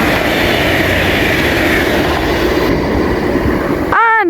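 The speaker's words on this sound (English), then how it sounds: "And now we have an Avanti West Coast Pendolino." An Avanti West Coast Pendolino passes through Milton Keynes Central on the West Coast Main Line, a loud, close, continuous rumble and rush of the electric train, ending in a brief rising tonal whine.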